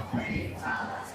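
Energetic crowd at a Palestine rally in DC, shouting and cheering together in a sustained, fairly loud roar with overlapping voices throughout.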